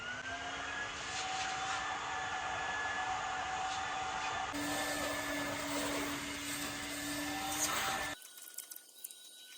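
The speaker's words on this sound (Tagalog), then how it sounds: "vacuum ko muna yung loob" A vacuum cleaner running steadily while cleaning a used car's interior, a droning motor whine with a shift in pitch partway through, then cutting off into quieter handling noises near the end.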